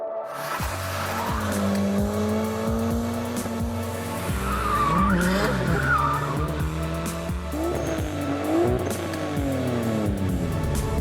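A Nissan Silvia drives with its engine droning and rising through the gears, tires squealing and skidding over a steady loud motor tone, heard close from inside or near the car with no talking.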